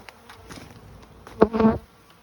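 Buzzing of honey bees close by during honey harvesting, a few soft passes followed by a louder burst of dense humming near the end.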